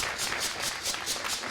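A studio audience applauds a guest arriving on set, a brief, even burst of dense clapping with no voices over it.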